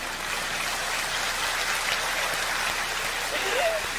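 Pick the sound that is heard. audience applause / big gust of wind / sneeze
audience applause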